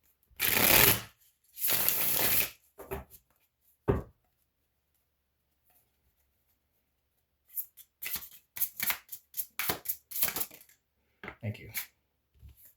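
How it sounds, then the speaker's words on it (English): Tarot cards shuffled by hand, bursts of crisp riffling and flicking in quick clusters, close and fairly loud, separated by quiet pauses, with a later run of rapid card slaps and shuffles. "That was a good shuffle."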